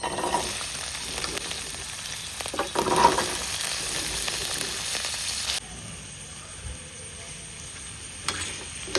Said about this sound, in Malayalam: എണ്ണ ചൂടായി ഇതിൽ കഴുകി വൃത്തിയാക്കി വെച്ചിരിക്കുന്ന വെളുത്തുള്ളി ഇട്ട് കൊടുക്കാം.